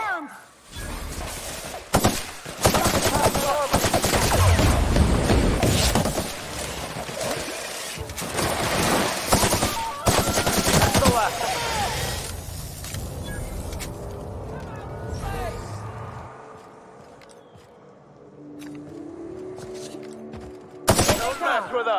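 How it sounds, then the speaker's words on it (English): Gunfire in The Outer Worlds, loud rapid volleys with shattering impacts packed into the first half, then fading into quieter game ambience and voices before a final short burst. "shoot your way through a few nightmares on your way up"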